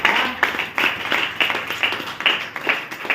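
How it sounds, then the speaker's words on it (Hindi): An audience breaks into steady, continuous clapping that fills the space, loud and close with dense, overlapping claps and no voices over it. "ताली हो सकती है डीएक्शन के लिए।"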